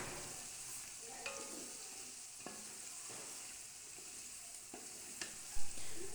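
Potatoes and peas fry in a pot for a chicken and pea pulao, a soft continuous sizzle with scattered scraping taps of a spoon stirring, fairly quiet and close, no voices.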